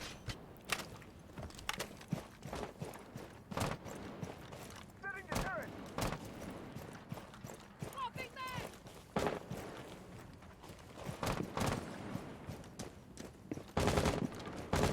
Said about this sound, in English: Shotgun going live.